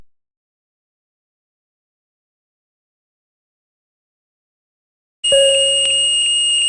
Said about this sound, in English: When smoke is detected, a horn operates and the red alarm indicator illuminates.